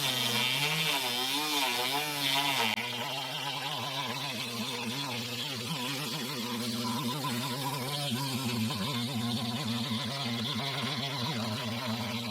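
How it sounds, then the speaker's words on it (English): A Dremel router cuts a sound hole into a guitar body, giving a steady, continuous whining, grinding buzz with wavering pitch that carries on without a break, nearby and alone. "I've also been testing my Dremel router to cut out the sound hole for my granddaughter's guitar"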